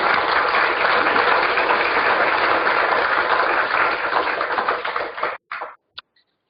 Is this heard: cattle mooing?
no